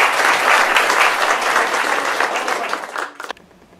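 Audience applause at a live stage show featuring a musical act, a dense burst of many hands clapping that holds steady for about three seconds before tapering off abruptly into quiet.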